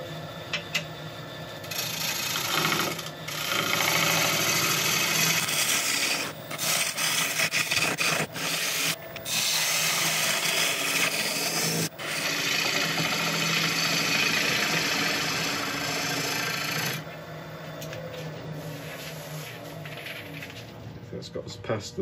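A woodturning gouge hollows out a wooden bowl on a lathe, giving a sustained loud scraping and rasping over the spinning blank with brief pauses between passes. A voice speaks at points under the cutting.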